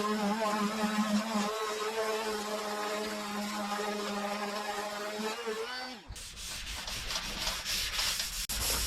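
Metal on a Ford 960 tractor being scuffed before primer, with a continuous close abrasive rubbing under a humming motor tone that drops away midway, leaving harsher scraping noise.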